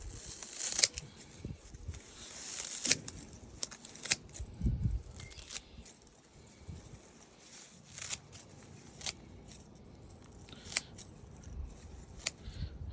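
Scissors snip through a whole bunch of garden chives in repeated crisp cuts, close and fairly quiet, with rustling of the stems between snips.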